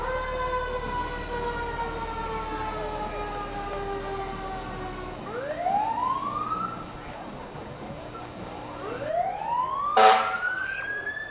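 A fire engine from the Fergus Falls Fire Department sounds its siren during a summer parade, a loud wail repeatedly rising and falling, with a final sharp blast near the end.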